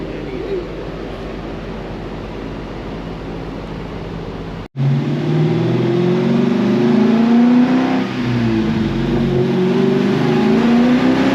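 Dodge Challenger Scat Pack with a cam upgrade running on dyno rollers: a steady engine drone, then after a brief cut a louder rising rev with whining rollers that holds strong for several seconds.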